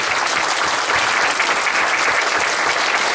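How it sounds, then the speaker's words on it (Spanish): A seated congregation at a church service claps steadily, a dense, even burst of applause that carries on throughout without a break. "Vamos a darles un aplauso, los que estamos sentados."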